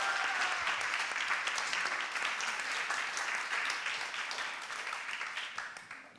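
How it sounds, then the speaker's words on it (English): A poetry slam crowd greets a young poet with warm, sustained clapping that starts strong and slowly tapers off, individual claps becoming more distinct as it fades. "Big round of applause for Teresa Lola."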